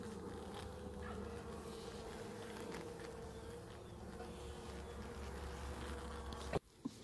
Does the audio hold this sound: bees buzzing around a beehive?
yes